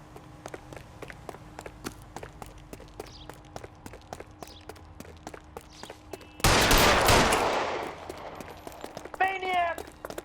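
Gunfire in the video game L.A. Noire: a sudden loud burst of shots and crackling noise erupts after a stretch of quieter game ambience and footsteps, fading out with a brief voice near the end.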